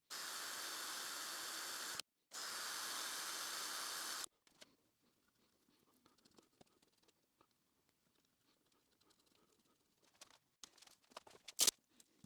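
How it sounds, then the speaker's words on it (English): A can of high-temperature barbecue spray paint hisses in two loud, steady bursts of about two seconds each, close by, then gives way to quiet workshop handling noises and a few sharp knocks. "I bought some barbecue high temperature spray."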